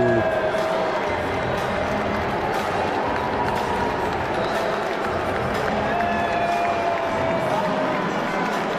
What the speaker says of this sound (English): he got booed so much that the U.S. Open ordered their outlets to censor the booing of Trump